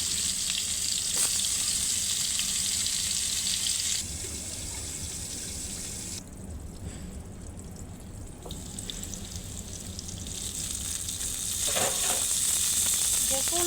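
Pointed gourd (potol) fries in hot oil with a strong, steady sizzle that dips quieter midway and swells again, with occasional pops, heard close and without talk.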